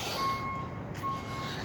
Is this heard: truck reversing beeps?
yes